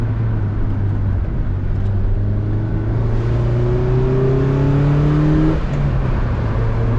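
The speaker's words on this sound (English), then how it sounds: "I think this car sounds really good." A stock Mazda Miata engine revs up steadily and loudly up close, the pitch climbing smoothly for several seconds before dropping back off, no talking over it.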